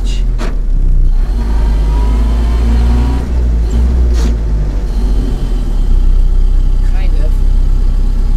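A 1931 Ford Model A 66A Deluxe pickup engine pulls uphill with a steady low rumble and engine drone throughout, loud and close, while a person talks over it.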